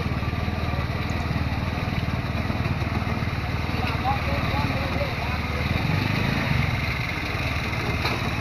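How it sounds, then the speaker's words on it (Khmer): Busy street traffic around a Phnom Penh market in 2020, with cars, trucks, motorcycles and tuk-tuks producing a continuous low engine rumble and idling drone that holds steady throughout. "មានឡានតូចឡានធំគ្រប់ចម្រុះទាំងអស់ម៉ូតូលម៉ូក"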